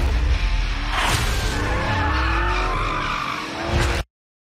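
Car tires skid and squeal loudly in a Call of Duty Black Ops 4 heist trailer, a sustained screech with engine roar and a sweeping pass, ending abruptly after about four seconds.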